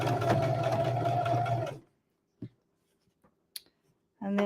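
A home sewing machine stitches a fabric Christmas stocking seam in a loud, steady run for almost two seconds, then stops, leaving a few small isolated clicks and a brief restart at the end.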